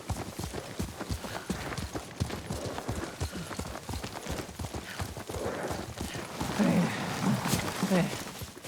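Horse hooves clip-clop steadily while riding in Ghost of Tsushima, a fast rhythmic trot heard under voices and game ambience throughout.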